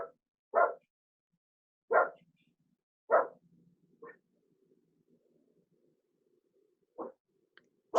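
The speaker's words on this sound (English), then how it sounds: "the second dog outside" A dog outside barks about six times in short, sharp, well-spaced bursts, fairly close, with quiet gaps between them and no voices over the barks.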